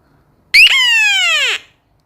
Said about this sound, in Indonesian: Ini adalah suara pertama dari sirine 3 suara ya teman-teman.